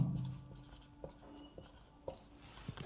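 Pen writing on paper during a maths lesson, with soft scratchy strokes and a few sharper taps close by in a quiet room.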